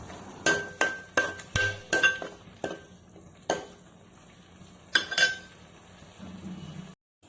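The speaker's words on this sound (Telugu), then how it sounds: "మొత్తం అన్నీ ఒకసారి బాగా కలుపుకుందాం" Green chillies and turmeric are stirred in a pan for a small-fish curry, with a spoon striking and scraping the metal pan in a series of sharp, close clinks and knocks, with a faint sizzle underneath.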